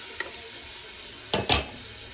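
Onions and carrots go into a hot soup pot and sizzle: a faint, steady hiss throughout, then two louder, brief bursts of crackling near the end as the vegetables hit the oil.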